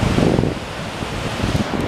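Fast, swollen river water rushes loudly and steadily close by, a broad continuous roar that fills the scene from start to finish.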